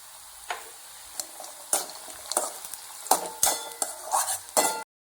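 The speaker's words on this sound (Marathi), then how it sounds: "नंतर त्यामध्ये शेंगदाणे टाकायचे. आता ॲड करूया शेंगदाणे." Peanuts sizzling in hot oil in a pan while a utensil stirs and scrapes them, with steady frying hiss and repeated sharp metallic scrapes and clinks close by, no speech.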